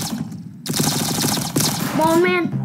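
Rapid automatic gunfire rattles in the Roblox-style shooter Arsenal, dense bursts close and loud, broken by a short pause, with a rising electronic game tone near the end.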